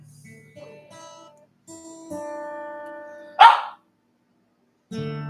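Shih Tzu dogs barking and yipping in a small group, a few short tonal yaps followed by one sharp louder bark, with brief quiet gaps between bursts.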